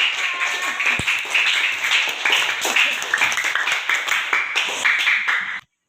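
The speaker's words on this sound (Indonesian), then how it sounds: "Beri tepuk tangan untuk" A classroom of pupils claps their hands during a primary school lesson, a steady burst of dense, close clapping lasting several seconds before stopping abruptly.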